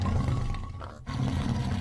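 A loud, close roar from a white tiger in Minecraft, a rumbling growl that breaks off briefly and then resumes, heard alone without any speech.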